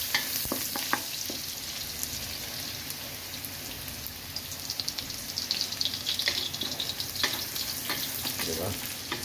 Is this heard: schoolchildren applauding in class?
no